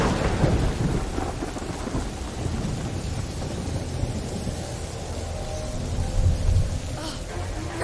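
A thunderstorm in A Plague Tale: Innocence, heavy rain roaring continuously with deep rumbling thunder swelling underneath, loud and close, with a bigger surge near the end.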